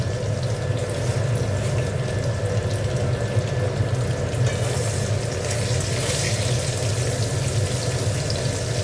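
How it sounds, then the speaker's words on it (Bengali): Bori, small lentil dumplings, fry in hot oil with a loud, steady, dense hiss and crackle that holds evenly throughout, with no voices. "দেখো বড়িগুলো ভেজে নিচ্ছি।"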